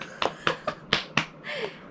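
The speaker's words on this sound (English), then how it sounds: "I gotta clap my thighs" Hands slapping on thighs at a birthday celebration in Japan, five or six sharp, separate smacks in an uneven rhythm, close and fairly loud, followed by a short voiced cheer.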